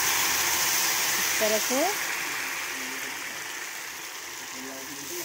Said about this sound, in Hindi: अब ये लगाएंगे तड़का हम